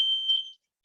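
A smoke alarm shrills in a kitchen, set off by high-heat cooking of shrimp stock: a loud, steady high-pitched tone that cuts off briefly, then starts sounding again at the end, with no talking.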